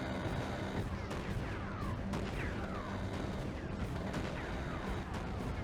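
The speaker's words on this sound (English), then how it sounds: "It has that real nice Gatling gun noise." A Gatling gun in the mech game Mecha Knights fires continuously, a dense, steady roar of rapid shots with sharp cracks and sweeping whines layered over it, loud throughout.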